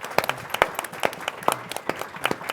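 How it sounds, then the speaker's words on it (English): An audience at a university health scholar series event applauds, with scattered, moderately close hand claps in an irregular patter that stays fairly light, with no talking. "A round of applause."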